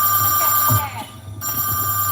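A mobile phone rings with short electronic tones, partly masked by background noise and a voice, dropping out briefly in the middle before resuming.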